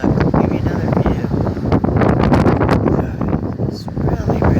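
Strong wind roars and buffets against the microphone in continuous loud gusts outdoors during extreme weather, with rustling and a faint voice in the background.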